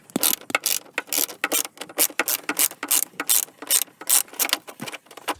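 A ratchet on a C4 Corvette clicks in quick rhythmic bursts as upper bolts are backed out near the fan motor, close and fairly loud, with no talking.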